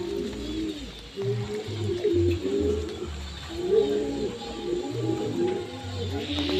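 Pigeons, including red ones, coo repeatedly in low rhythmic bursts close by, overlapping calls from several birds, with someone talking softly over them.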